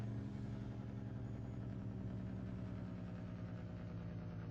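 Jake brake on a straight-piped Peterbilt 379 in American Truck Simulator, a loud, steady, rapid-firing engine rumble that holds throughout.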